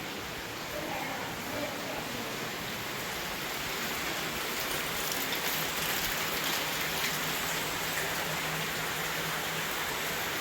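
Steady evening rain falls throughout at a temple in Velvand village, Ratnagiri, Konkan, a dense even hiss of drops on surfaces, with faint voices now and then beneath it.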